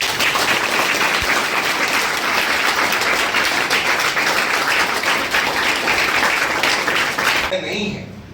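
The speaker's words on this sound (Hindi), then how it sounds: "इन चैंप्स के लिए जोरदार ताली।" A large audience claps loudly and continuously for several seconds, the applause fading abruptly just before the end.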